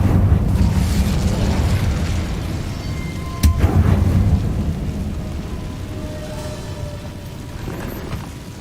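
Incendio fire spell cast in the video game Hogwarts Legacy: a loud, sustained whooshing roar of flame with a sharp burst midway, slowly fading, with no talk.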